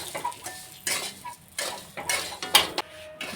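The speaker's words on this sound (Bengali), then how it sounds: "এখন নেড়ে নেব।" Semolina being stirred in a pan with sugar and a spoonful of ghee, a metal spoon scraping and clinking against the pan in repeated uneven strokes, close and fairly loud with no talk.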